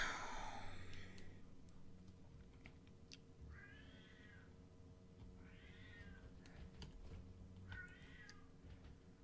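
Pet cat Fifi meowing loudly indoors, three drawn-out meows spaced a couple of seconds apart over a low steady room hum, after a brief rustling burst at the start.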